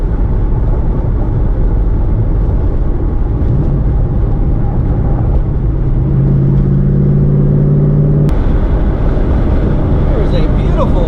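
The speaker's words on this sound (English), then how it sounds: "There's a beautiful Mustang coming up behind me." A Ford Mustang approaches from behind on the road, a steady engine drone that rises in pitch and firms up as it closes in, heard from inside another moving car alongside talk.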